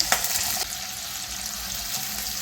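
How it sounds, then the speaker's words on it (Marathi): Onion, cumin and mustard seeds frying in hot oil for misal. A brief, close, steady hiss with a couple of quick clinks at the start, and no talking. "आता आपण ही जिरं मोहरी घालून घेऊयात. कांदा घालायचा."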